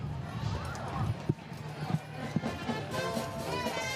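Carriage horses' hooves clop on pavement in a loose, irregular rhythm during a Fourth of July parade, a few distinct knocks standing out over crowd chatter and background noise.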